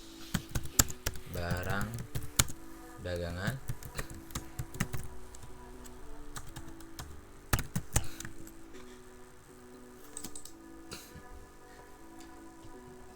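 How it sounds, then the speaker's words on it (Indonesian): Someone types on a computer keyboard while entering accounting figures, making quick close clicks in uneven bursts, denser early on and then sparser, with a person talking intermittently. "Selanjutnya kita bisa ngetik"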